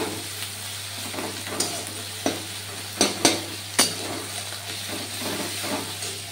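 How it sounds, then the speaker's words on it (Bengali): Onion, tomato, garlic paste and chili paste frying in a pan, a soft continuous sizzle with a steady low hum beneath and several sharp scraping clinks of a spatula stirring. "তো পেঁয়াজ টমেটো ভাজা হচ্ছে, এবার এর মধ্যে দিয়ে দেবো আমি রসুন বাটাটা আর লঙ্কা"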